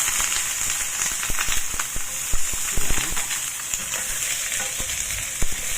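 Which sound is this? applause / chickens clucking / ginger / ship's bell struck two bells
ginger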